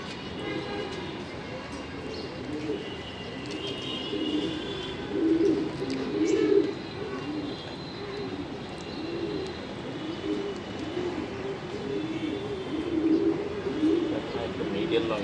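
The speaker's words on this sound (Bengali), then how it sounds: "দেখেন নর কবুতর, এই যে চোখটা" Male racing pigeons in an indoor loft coo in low, repeated rolling bursts, with someone talking over the steady background murmur of the birds.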